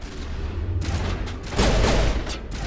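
Gunfire in the video game Mass Effect sounds as a dense, loud burst of rapid shots and booming impacts, a continuous fusillade that swells near the end with no speech.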